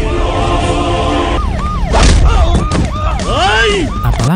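An ambulance siren, stuck in a traffic jam, sweeps up and down repeatedly amid loud traffic noise and thuds, with a steady tone droning underneath at first.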